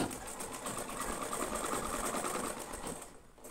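A sewing machine stitches a notched shirt collar, running in a steady, fast, whirring rhythm at close range for the whole stretch before slowing slightly at the end.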